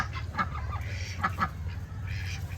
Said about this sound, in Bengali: এই দুটো হাঁসের কালার কত সুন্দর পুকুরে দেওয়া